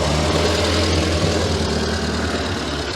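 A scrapyard Morris Minor, unused for nine years and running with too much fuel after the choke came off, churns out a loud, close, steady engine rumble for a few seconds.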